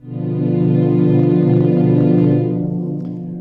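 Sustained layered synthetic string chord with a rich, slightly eerie tone, swelling in and holding steady before fading near the end.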